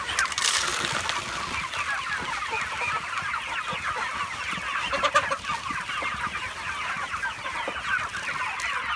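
Young broiler chickens raised on corn cluck and chatter together in a busy, continuous flock murmur, close by and fairly loud, with no talking.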